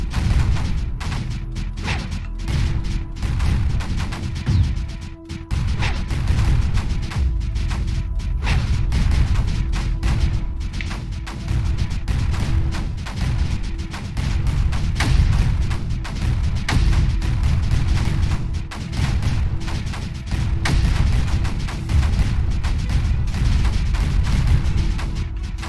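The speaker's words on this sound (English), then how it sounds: "I do feel like mortars are a bit overpowered, if I'm honest." Mortars firing in Creeper World 4, a dense, continuous barrage of booming blasts and crackling impacts with a brief dip near the start, loud and sustained throughout.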